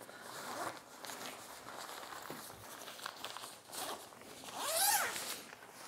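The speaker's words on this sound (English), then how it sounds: "Again, you unzip them." A zipper on a pair of Klim Forecast rain pants being pulled open, a few close scratchy zips and rustles of the fabric ending in one sharp, louder rip of the zip near the end.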